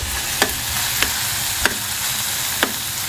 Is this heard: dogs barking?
no